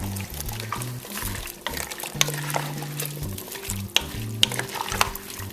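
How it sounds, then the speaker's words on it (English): Vegetables for elk stew, celery, onions, mushrooms and carrots, sizzle and scrape as they are stirred in a pot, a steady fry with rhythmic spoon strokes and clatter. "Go ahead and stir that up."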